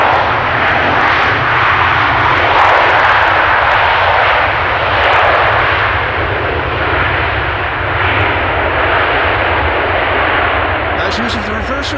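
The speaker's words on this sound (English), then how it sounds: "Use of the reversers." At Amsterdam Schiphol, a jet airliner lands with thrust reversers engaged, producing a loud, continuous roaring rumble that holds steady for the full twelve seconds.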